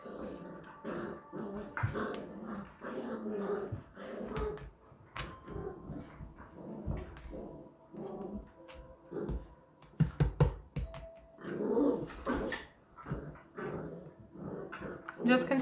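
Two pet dogs growl, whimper and bark playfully in an indoor room, with repeated bursts of snarling and yips at close range, mixed with people talking and household knocks.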